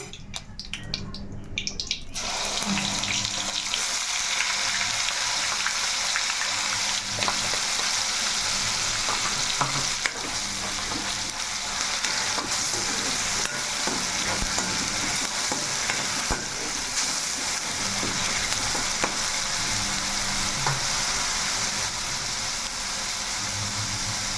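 Onion paste frying loudly in a pot for green chicken pulao, a steady dense sizzle with stirring scrapes that runs on without a break, close and with no talking.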